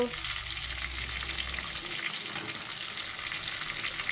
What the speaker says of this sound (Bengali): দিয়ে আমি আলুটাকে একটু ভেজে নেব সামান্য